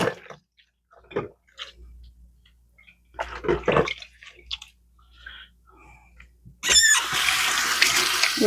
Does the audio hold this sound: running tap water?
yes